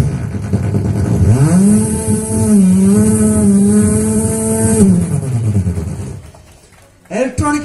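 A voice imitates a chainsaw cutting wood, rising into a loud, steady buzzing drone that holds for about three seconds, then winds down and fades, followed by a short burst at the end.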